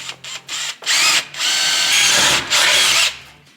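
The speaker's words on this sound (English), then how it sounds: "I'm gonna drill a couple holes in this bracket" A power drill bores holes into a metal bracket in several loud bursts, starting with brief stuttering pulses and then running in longer whines with short pauses between them.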